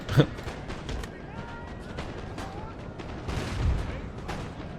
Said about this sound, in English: Cannon ready, sir.